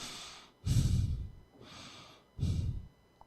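Slow, audible breaths close to the microphone: two heavy exhales alternating with softer inhales, no talking.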